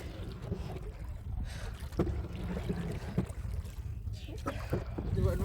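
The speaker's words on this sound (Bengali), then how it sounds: "মন দিয়ে নৌকা চালাচ্ছে ছেলে একবারে।" Water laps and splashes in irregular strokes under a steady outdoor hiss, with faint knocks as a small boat is paddled along.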